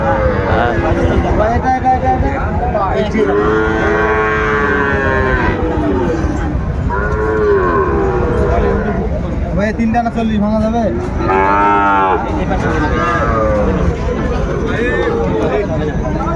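Young Sahiwal bull calves low repeatedly at a busy cattle market in Chuadanga, their loud, drawn-out moos rising over steady crowd chatter and close bargaining voices.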